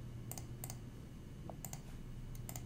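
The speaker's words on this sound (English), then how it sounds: "I'm going to go ahead and type food again." Soft, quick keyboard clicks come in small paired groups, faint and distant over a steady low hum.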